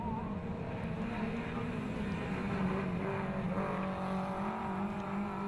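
Subaru Legacy 2000cc race cars on track during a race, a steady distant engine drone with a sustained hum and faint shifts in pitch, constant and even throughout.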